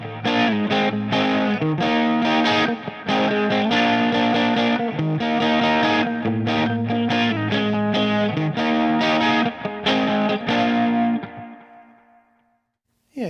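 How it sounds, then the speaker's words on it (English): Electric guitar played with crunch distortion through a Line 6 Spider Valve MKII amp with flanger, delay and reverb, a loud run of chords and riffs that stops and rings out into a long echoing tail. "It's maybe a little bit too much delay and reverb in there"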